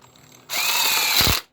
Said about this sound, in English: take my screw, put it in the inside, then reverse my impact driver